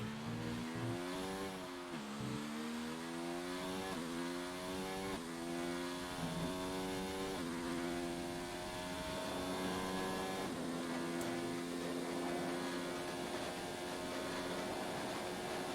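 Formula 1 car engine in the racing game F1 2019 on the French GP circuit, a steady high-pitched whine with repeated rising and falling gear-shift sweeps as the car accelerates and brakes, continuous and close throughout.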